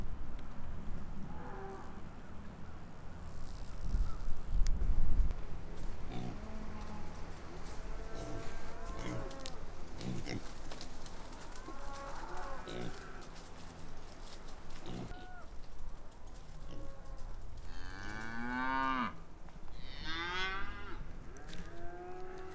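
Cattle on pasture low repeatedly, several clear moos rising and falling across the stretch, some closer and louder toward the end, over steady outdoor ambience with no talking.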